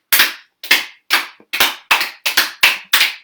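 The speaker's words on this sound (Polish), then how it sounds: "Drugie ćwiczenie klaszczemy z przodu i z tyłu." One person does a home exercise, clapping hands alternately in front of and behind the back: nine sharp, loud, evenly spaced claps at a brisk steady rhythm, with silence between them.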